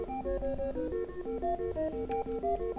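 A µTune microtonal Eurorack quantizer module plays a synth melody in a 15-division equal-tempered scale, a steady, moderately loud stream of short, buzzy stepped notes in a quick repeating rhythm.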